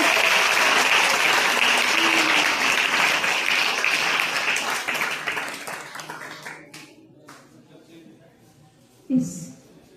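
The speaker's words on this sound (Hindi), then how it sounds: "एक बार जोरदार ताली बजाएं आप लोग" An audience at a school event on drug de-addiction claps loudly for a speaker taking the stage. The applause is dense and sustained, then fades over several seconds into near quiet, with a brief thump near the end.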